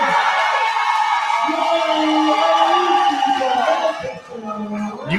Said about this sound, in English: You can hear the Manchester Rock crowd here.